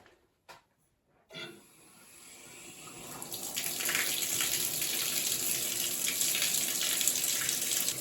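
A newly installed bathroom shower starts up after a couple of brief knocks, then water runs and trickles down stones in a steady, close hiss that builds and holds.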